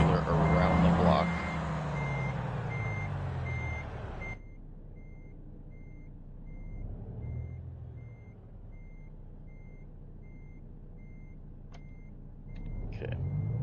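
Steady reversing beeps from a truck backing a trailer in American Truck Simulator, repeating evenly under a rumbling diesel engine that cuts out partway through, with a hiss near the end.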